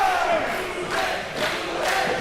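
An indoor IWC wrestling crowd at the Bulk vs Hooven match roars steadily in support of Hooven, with broad swelling cheers and shouts that stay loud throughout.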